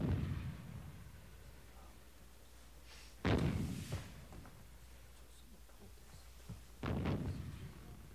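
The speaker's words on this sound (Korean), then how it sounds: "저 대포 소리 좀 그쳐주시오" Cannon fire in a Korean historical drama, two heavy booming blasts several seconds apart, each a deep thud with a rolling tail, over a quiet low hum.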